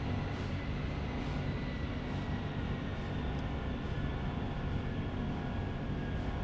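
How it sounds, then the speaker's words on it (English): A train locomotive in the game Grandia rumbles toward the listener as a dense, steady, low roar with a constant mechanical drone, holding at an even level throughout and with nothing else over it. "It sounded kinda like a train's locomotive."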